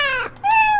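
A cartoon cat meows twice, a brief bright meow followed by a second drawn-out one, clean and close.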